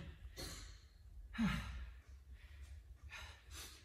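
Heavy, breathy panting after a short, intense home workout during lockdown: several loud exhales and gasps in an uneven rhythm, close to the microphone, with no talking.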